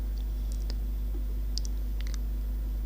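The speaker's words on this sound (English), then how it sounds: "Now I am clicking required again." Computer mouse clicks while building a Google Form, a few soft, sharp clicks spaced irregularly over a steady low hum, with no talking.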